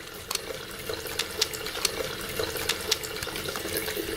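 Hands being washed under warm running tap water at a sink, a steady faint stream with soft splashes as the hands move, close and without talk.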